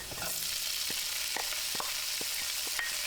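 Leftover chopped chicken adobo fries with garlic in hot oil, a steady close sizzle broken by scattered sharp crackles and pops as pieces are stirred in the pan.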